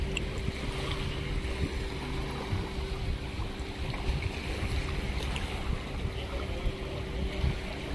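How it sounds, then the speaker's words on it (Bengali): Sea waves roll onto a beach where tourists gather, heard as a continuous low rushing surge with wind noise, fairly steady and without distinct separate breaks, no voices. "সাগরের অতুলনীয় ঢেউ"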